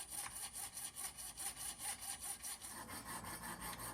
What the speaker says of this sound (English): I've got the fret saw out. I want to make a very fine cut right down the center with minimal kerf here.